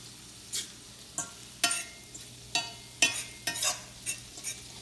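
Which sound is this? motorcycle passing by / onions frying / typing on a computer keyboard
onions frying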